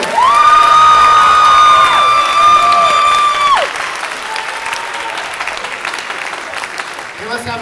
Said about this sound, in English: And let's have another round of applause for Mr. Carson at the University of Florida.